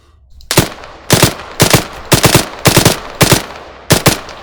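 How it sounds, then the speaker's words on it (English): An AK rifle firing in the ArmA 3 military shooter: about eight loud, close bursts of two or three shots each, evenly spaced with short pauses between them. "then we can fire at these guys to see how they're doing and how the enemy will take the bullets"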